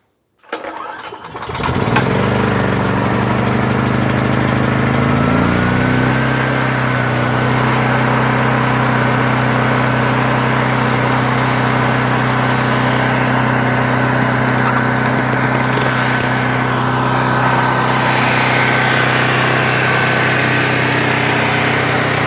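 A Duramax 8500 dual fuel generator cranks briefly and catches, then runs loud and steady at a constant close-up drone for the rest of the time.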